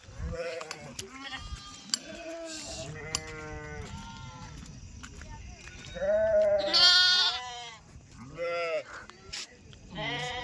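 Sheep bleat repeatedly nearby, several overlapping wavering calls, one louder cry standing out, with some voices in the background.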